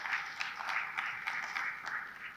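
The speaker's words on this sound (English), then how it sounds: "I would say let's clap our hands for them at this point." Clapping for graduates at a virtual graduation comes through as faint, thin, continuous applause with soft, uneven hand claps blending together.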